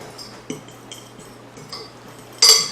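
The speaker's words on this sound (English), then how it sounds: "I'm just going to give that a nice stir to combine them." A spoon stirs almond flour, salt and baking powder together in a bowl for keto cornbread muffins, with a few light, scattered clinks and taps and one louder clatter near the end.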